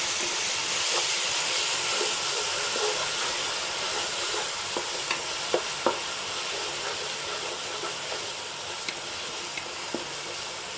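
Onions with ginger garlic paste fry in a biryani pot, a steady broad sizzling hiss throughout with occasional small pops and stirring clicks, close and continuous.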